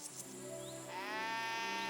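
A sheep bleats in Kingdom Come: Deliverance II, a single drawn-out, wavering bleat that rises and holds steady, fairly close and clear over quiet surroundings.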